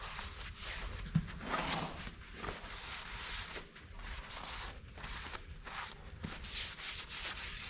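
A rusty wheel rim on a John Deere L130 lawn mower being scrubbed clean, continuous close rasping strokes in an uneven rhythm, fairly quiet, no talk.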